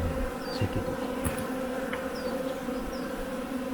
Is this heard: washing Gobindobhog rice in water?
no